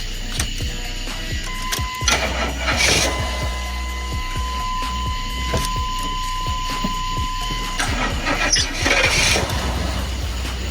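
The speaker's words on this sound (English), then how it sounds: "Hold on, I gotta crank the car." A 1985 Chevy box-style car engine cranks with a whirring, squealing starter and catches, settling into a steady running drone, close and fairly loud, with a long whine running through the middle and mechanical clatter throughout.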